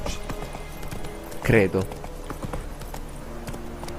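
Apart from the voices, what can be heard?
horse hooves galloping in video game The Witcher 3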